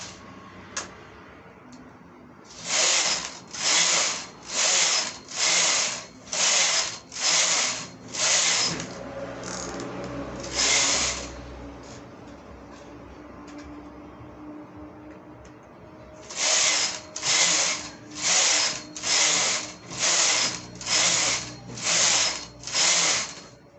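A knitting machine carriage sweeps back and forth across rows, each pass a loud, close whooshing clatter in a steady rhythm, one run of about eight passes, a brief pause, then another matching run.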